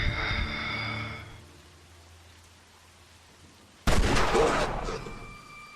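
Video game gunfire: a faint tonal ring first trails off into quiet, then a sudden loud, sharp gunshot burst erupts and decays into a lingering ring.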